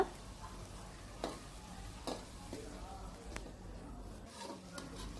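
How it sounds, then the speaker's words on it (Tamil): Sliced onions sauté in hot oil with curry leaves and green chilies for a spicy country chicken curry, giving a steady, moderate sizzle broken by a few sharp clicks of stirring. "இப்போ பார்த்தீங்கன்னா வெங்காயம் நல்லா வதங்கிக்கிட்டே இருக்குது"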